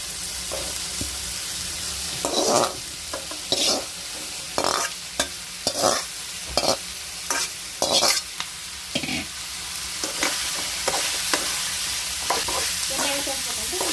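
Pieces of pan-roasted bitter gourd fry in oil with salt for a North Karnataka-style palya. A constant sizzle runs under frequent, irregular scrapes and knocks from a spatula stirring in the pan.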